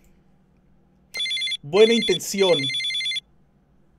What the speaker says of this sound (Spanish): Suena el teléfono de Nasser.